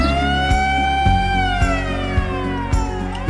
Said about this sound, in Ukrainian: Коли ти чуєш повітряна тривога,